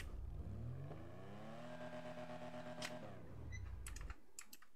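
A Mercedes engine in GTA 5 revs up, holds a steady high whine, then drops back down, followed by a few light clicks.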